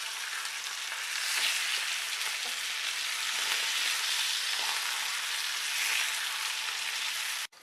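Fish fries in hot oil in a pan, a dense, steady hiss and crackle that holds evenly close up, with small pops here and there, then cuts off abruptly.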